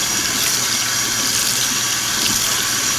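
Warm water runs steadily from a tap over a tie-dyed V-neck tee being rinsed in a sink, a continuous close hiss of flow with no talk.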